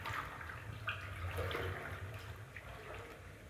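Water runs steadily in the horror game The Complex: Found Footage, a faint hiss like a flushing or draining pipe over a low hum.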